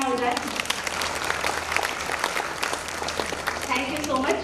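A school function audience of children and parents claps steadily for several seconds, a dense spread of hand claps with a voice faintly audible over it.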